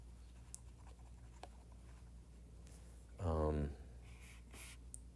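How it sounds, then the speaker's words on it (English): A marker squeaks across a board in one short drawing stroke, a brief loud rasp standing out against quiet room tone, with faint taps and scratches before it. "I'm going to erase this and draw it a little bit nicer"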